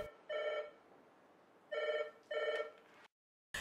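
A telephone bell rings in a disaster management center in Sri Lanka. Three distinct rings come in a row with gaps between them, clear and close, followed by silence.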